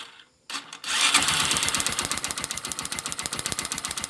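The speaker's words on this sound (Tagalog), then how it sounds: "pagpasensyaan nyo na yung ingay ng motor ko." A motorcycle engine with a modified ignition coil kicks to life after a brief quiet moment and runs with a rapid, steady rhythmic putter, loud and close.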